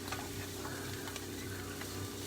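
Food sautéing in a mixture of oils in a pan, a steady soft sizzle with faint stirring clicks, quiet and continuous with no talking.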